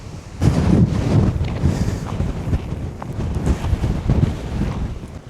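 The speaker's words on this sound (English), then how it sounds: "that wind is absolutely fierce" Strong, fierce wind buffets the microphone on a sunny coastal walking path in Cornwall between Cape Cornwall and Sennen, a loud continuous roar and rumble with no speech.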